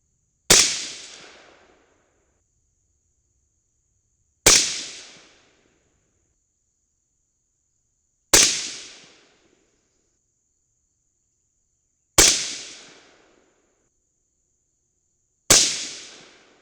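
Five sharp, loud .223 rifle shots fired from bulk bullets loaded with H322 or IMR 3031 powder, each crack decaying over about a second, spaced roughly four seconds apart with silence between.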